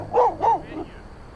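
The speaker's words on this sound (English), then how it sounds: "Nice dog." Dog giving two short, clear barks close by, followed by a softer trailing whine-like vocalization, no talk over it.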